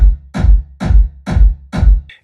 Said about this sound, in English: what happens when you put a reverb on a kick